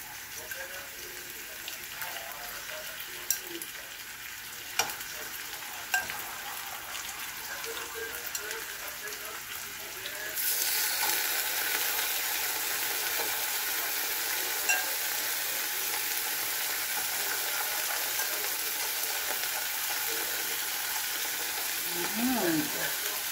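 Chicken pieces for a spicy pineapple-juice dish sizzle in a pan, a steady frying hiss that jumps louder about halfway through and holds, with a few light clinks and stirring noises along the way.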